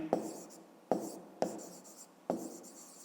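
Four short pen strokes scratch across paper as numbers are written by hand for a fifth-grade maths exercise, each a faint, quick scribble with gaps between.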